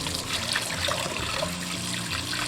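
Crucian carp rinsed under a running tap while the dark belly lining is scraped out, giving a steady close splashing trickle of water throughout, with faint handling clatter and no talk.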